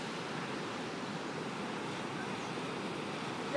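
Ocean waves on a sandy beach along the Great Ocean Road in Australia make a steady, broad wash of surf noise, with a gust of wind at the very end.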